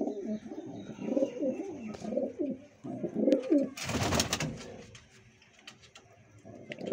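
Kalduma and Lalduma pigeons coo in a loft, soft repeated throaty coos close by, with a brief burst of fluttering wings in the middle and faint chirps around them.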